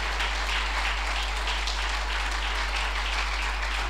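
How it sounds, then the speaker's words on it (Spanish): A church congregation claps in continuous, even applause over a constant low electrical hum, with no pause across the whole stretch. "dale un aplauso al Señor."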